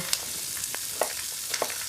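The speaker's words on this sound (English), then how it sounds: "So about 10-15 minutes of gentle frying." Roughly diced celery, onion, carrot and leek fry gently in a pan, a steady low sizzle with a few soft crackles and pops, close and without talk.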